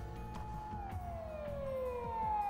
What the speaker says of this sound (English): a shrill siren shatters the night